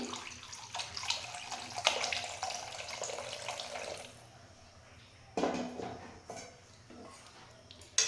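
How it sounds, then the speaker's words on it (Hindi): Half a litre of milk pours into a pan, a steady liquid gush for about four seconds, then quieter stirring and splashing sounds close by. "इसके साथ ही मैं इसमें ½ लीटर मिल्क डाल दूँगी।"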